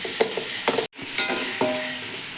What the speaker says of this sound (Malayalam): ഒരടുപ്പത്ത് ചിക്കൻ പൊരിക്കാൻ വെച്ചതാണ്